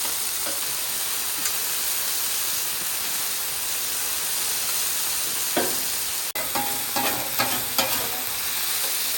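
Honey garlic chicken bites sizzling on a Blackstone griddle, a constant close frying hiss with occasional sharper crackles and a couple of light spatula scrapes near the end.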